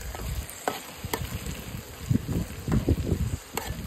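Chopped tomatoes and onions sauté in a pan with a soft, uneven sizzle, broken by irregular stirring scrapes and a few light taps, close and moderately loud.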